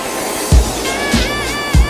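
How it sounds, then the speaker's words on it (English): A London Underground Piccadilly line 1973 stock train running, with loud rumbling over rail joints, three sharp clunks, and a rising whine across the short stretch. "The 1973 stock of the Piccadilly line is made by Metal Camel."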